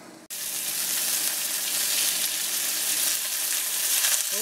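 Leftover pork belly slices hitting a hot pan for a doenjang stew meal, with a sudden loud burst of sizzling and frying that holds steady and close, no talk over it.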